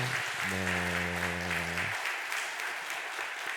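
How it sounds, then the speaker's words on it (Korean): Congregation clapping in welcome during a Sunday church worship service, a steady wash of applause that continues throughout, with a sustained low tone sounding underneath early on. "그 반가움을 담아 우리 환영의 박수 힘차게"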